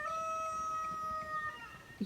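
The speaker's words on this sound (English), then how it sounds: "can you hear that, rooster?" A rooster crows in the distance, a thin drawn-out call over quiet outdoor background noise in rural countryside by a homestead.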